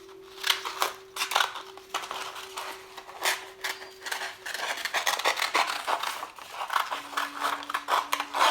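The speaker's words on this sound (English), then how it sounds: "cut it out with the scissors" Scissors snip through paper while a bookmark is cut out, a series of crisp, close cuts in an irregular rhythm, with a faint steady tone in the background.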